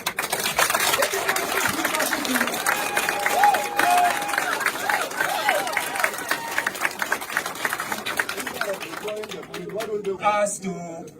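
An audience applauding Dr. Issa at a Mamprugu youth gathering about the Bawku conflict, a long dense burst of clapping with crowd noise and speech over it, fading toward the end.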